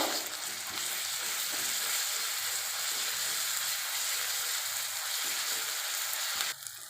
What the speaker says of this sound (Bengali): এবার আমি রসুন বাটা দেব, দিয়ে ভালো করে ভেজে নেব।